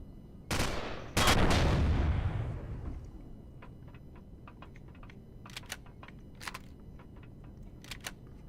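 Gun turrets fire in Empyrion Galactic Survival: two loud, sharp blasts with a lingering roar, followed by a scatter of faint, quick clicking shots at irregular intervals over a low background hum.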